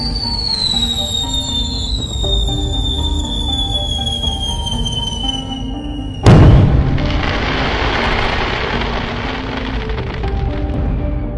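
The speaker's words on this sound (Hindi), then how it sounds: "सबसे पहले रॉड एक बड़ा वाला स्काई शॉट जलाता है।" A Diwali sky shot firework gives a rising whistle that falls away into a loud burst, followed by crackling sparkle and rumble that fades slowly; no one speaks.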